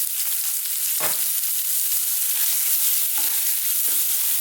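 Garlic ginger paste sizzles steadily in a pan with onions and salt for South Indian tomato chutney, a constant frying hiss with a few soft stirring scrapes and no voices.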